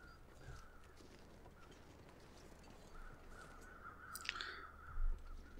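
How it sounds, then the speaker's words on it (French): Crows caw faintly in the distance across a quiet, wintry outdoor setting in the survival game The Long Dark, a few thin calls over low ambient hiss with one slightly clearer cry near the end. "j'entends les corbeaux au loin"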